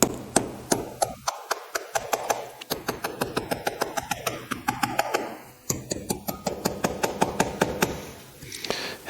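Rapid, steady metallic taps of a small hammer driving interference-fit tubes into Zenith 40TIN carburetor holders, dozens of light strikes in quick rhythm with brief pauses, close by.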